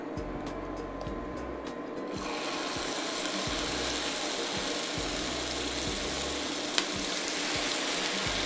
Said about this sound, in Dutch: de boemboe bakken